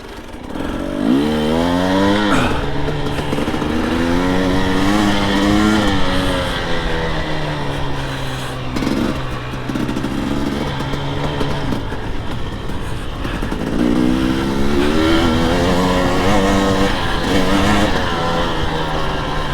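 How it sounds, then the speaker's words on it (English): A KTM 300 XC-W TPI two-stroke dirt bike being ridden at Erzbergrodeo, its loud, raspy engine rising and falling through throttle bursts and gear changes, close and continuous for the whole stretch. "This bike two-stroke is just a lot more fun than four-stroke."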